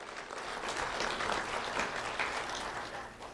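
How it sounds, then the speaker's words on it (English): Steady applause at a school recognition ceremony for an elementary student, even clapping from an audience, fairly faint and continuous with no talk over it. "Round of applause for Jazari Jenkins."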